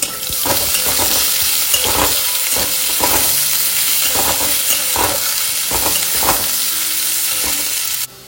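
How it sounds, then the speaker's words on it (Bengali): Two chopped onions fry in hot spiced oil in a pan, making a loud continuous sizzle broken by rhythmic stirring scrapes, then cutting off abruptly at the end. "কুচিয়ে রাখা পেঁয়াজ, 2টো পেঁয়াজ দিয়েছি।"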